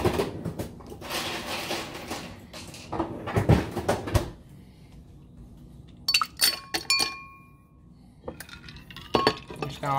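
Ice cubes clink and rattle into a tall 312 glass beer mug, a few bright hard taps in bursts, fairly close, with no talking.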